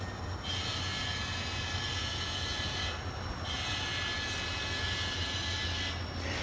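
A steady, continuous mechanical hum with a low rumble and high whine from an N scale model train running on track, close and unbroken for several seconds.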